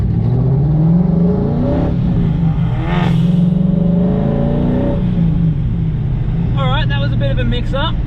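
A car launches hard in a drag race against a Golf R, its engine climbing through revs with gear changes while the occupants talk loudly over the steady roar.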